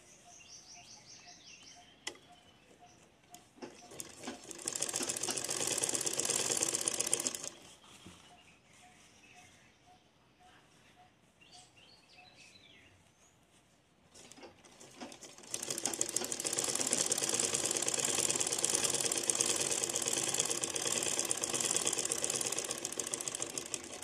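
An electric sewing machine stitches a designer blouse in two long, loud, continuous runs of rapid whirring, separated by quieter handling and fabric adjustment.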